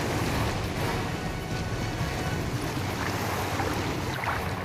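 A boat out on open water, a constant heavy rush of wind, engine and waves filling the whole stretch, with no talking over it.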